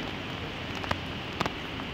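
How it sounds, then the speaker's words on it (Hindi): Rain falls steadily on a lawn below a house in Esenyurt, Istanbul, a dense, even hiss of drops with a couple of brief louder splashes or taps, no voices. "बारिश हो रही है।"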